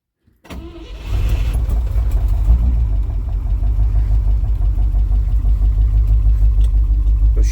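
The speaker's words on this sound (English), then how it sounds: "So she's idling." A flatfender Jeep fires up on a cold start and settles straight into a steady, loud idle that keeps running close by without any talk.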